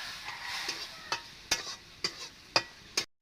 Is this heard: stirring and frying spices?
yes